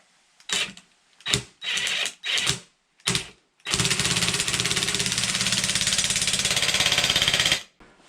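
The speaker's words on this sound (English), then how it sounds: "So then I can keep it in place and use my impact driver." Impact driver working bolts on a VW T3 van during restoration: several short loud hammering bursts, then one long sustained rattling run that stops abruptly, close and alone.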